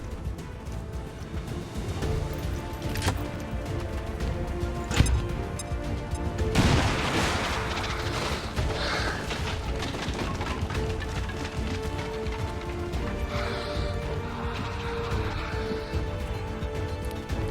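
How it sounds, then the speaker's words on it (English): Grenade blast in the video game XCOM 2: a sudden loud boom with a crackling, debris-filled tail, set among ongoing game music and ambient battle noise. "Throwing grenade!"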